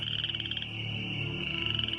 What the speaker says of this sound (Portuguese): milhões de rãs do rio Nilo saíram da água e invadiram as terras